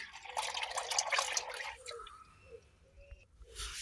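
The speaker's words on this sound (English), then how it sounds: "we're going to drain it again the second time" Black used diesel oil drains from the sump of a Volvo V70 D3/D4 five-cylinder during an oil change, a close wet trickle and spatter that thins into scattered drips.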